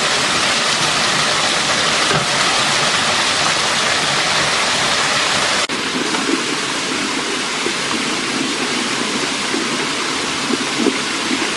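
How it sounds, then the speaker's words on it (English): Mountain spring water runs through a bamboo pipe toward a plunge pool by a forest waterfall, a steady, close, broadband rush that carries on without a break and with no voices. "clear mountain spring water flows smoothly as the pipeline settles"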